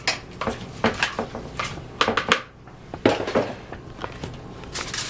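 Mushroom filling seasoned with salt and pepper is quickly mixed in a bowl, producing a run of close clinks and scrapes of a utensil against dishware in uneven bursts, with no talking.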